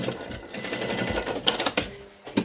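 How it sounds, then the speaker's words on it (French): A sewing machine stitches a short seam at the neckline of a garment, close and rapid, with quick mechanical clatter in uneven bursts and a few sharper knocks near the end, no talking. "Je pense que je vais refaire une petite piqûre là à mon encolure."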